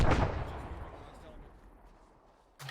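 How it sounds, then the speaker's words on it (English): A loud in-game explosion in ARMA 3 bursts at the start and its rumbling tail fades slowly over about two seconds, before a second sharp blast cuts in at the very end. "There's an explosion up to the south."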